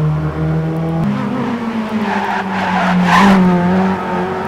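A race car in a racing video game accelerates through a series of corners, its engine droning in steady harmonic tones that shift pitch through gear changes, with a brief tire squeal near the end, close and loud.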